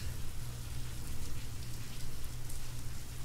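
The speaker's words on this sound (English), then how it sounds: "the quiet pitter-patter of the raindrops. Raindrops are falling." Rain in the video game Signal Simulator patters steadily on a surface, a soft, constant hiss of drops with no voices.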